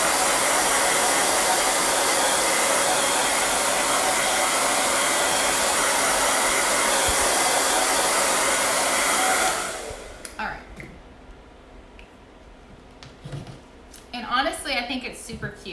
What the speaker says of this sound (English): the blow dryer just helps speed it up a little bit